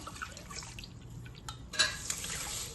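A cup of water poured into a pan of sugar to make syrup, a soft, quiet splash and trickle lasting a couple of seconds with no talk.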